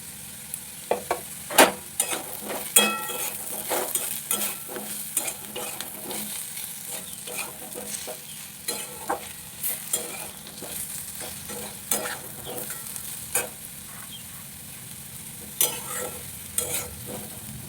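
Spices with turmeric and poppy seed paste for aloo posto are stir-fried in a pan, a low sizzle punctuated by frequent sharp spatula scrapes and taps throughout, close and with no speech.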